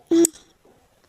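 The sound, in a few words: phone ringing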